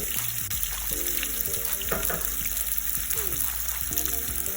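Onion with fennel seeds and fenugreek frying in hot oil, a steady close sizzle running throughout with occasional scraping and stirring knocks.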